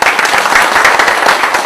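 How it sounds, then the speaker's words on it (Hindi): Brief round of audience clapping at a spiritual talk in Talegaon Dabhade, a loud, close patter of many hands in a fast, uneven rhythm. "आपको तालियां बजाएंगे"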